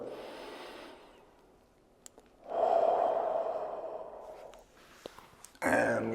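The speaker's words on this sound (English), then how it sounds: "One more breath." Deep, slow breaths during a stretching exercise for dental and office workers, with a long audible exhale in the middle and a sharper breath at the end, close and quiet with no talking.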